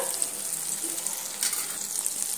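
Spices, cumin, chili powder and ginger-garlic paste fry in a pan with a soft, continuous sizzle and faint crackles, close and fairly quiet.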